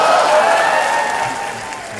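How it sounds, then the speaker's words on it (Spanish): A short burst of canned applause from a design app's sound-effect shortcut, a dense crowd-like clatter that starts full and slowly fades over two seconds, heard on its own. "Inclusive se escuchan unos aplausos."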